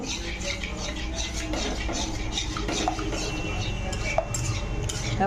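Melting sugar caramel is stirred with a spatula, giving continuous scraping and soft metallic clinks against the pan over a low bubbling sizzle, close and steady, without speech.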